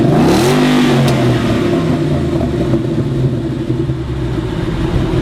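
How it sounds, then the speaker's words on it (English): Steady low rumble from the exhaust of a 2014 Ford Mustang, heard through the cabin near the trunk, holding a deep continuous drone with slight rising pulses near the start and no voices. "You get a lot of exhaust pulse and rumbling and all those kinds of noises coming through the cabin"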